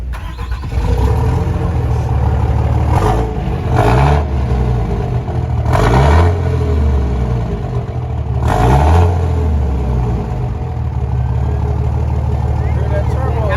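A tuned turbo truck engine starts and rumbles, then revs up sharply several times in loud close bursts while people talk nearby.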